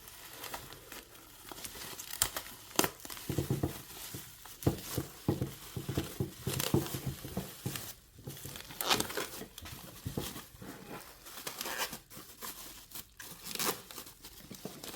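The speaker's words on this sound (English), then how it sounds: "So like it's fully taped all the way around. We're just gonna rip it open." Packing tape is ripped and peeled off a fully taped package holding a commode, giving close, irregular crackling tears and crinkling cardboard with sharp bursts scattered through, no talk.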